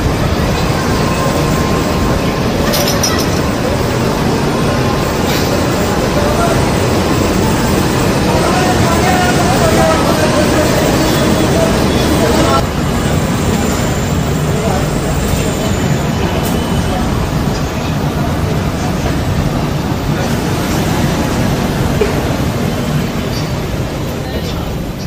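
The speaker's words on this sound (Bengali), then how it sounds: "তো এই মুহূর্তে আমাদের ট্রেন কলকাতা স্টেশন থেকে ডিপার্চার নিচ্ছে।" The Sairang Express train pulls out of Kolkata station, heard from on board as a loud, steady rumble and rolling noise that stays constant throughout.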